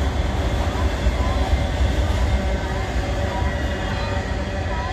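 A northbound auto-rack freight train rumbles steadily past through Abbeville, its heavy wheels and cars producing a continuous loud roar that fills the scene without pause.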